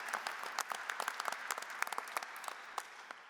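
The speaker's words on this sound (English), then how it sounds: "So give yourselves a huge round of applause." An audience applauds at the 2017 duPont-Columbia University Awards ceremony with fairly faint, scattered claps that come in a loose, uneven rhythm rather than a dense roar.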